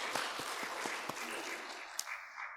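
A church congregation gives a short burst of applause during a worship service, scattered claps fading quickly into quiet, fairly faint and distant.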